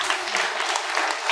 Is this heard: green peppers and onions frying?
no